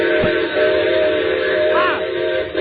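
A steam train whistle sounds in a 1940s radio drama as a car sits stalled on a grade crossing ahead, a steady loud tonal blast with a rising bend near the end, playing over continuous rumbling train noise.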